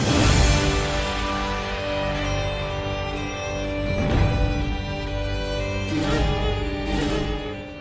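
Film score for How To Train Your Dragon blending hurdy-gurdy drone, electric guitar and other instruments in a dense, sustained ensemble, swelling with rhythmic accents and cymbal-like bursts throughout, no voices.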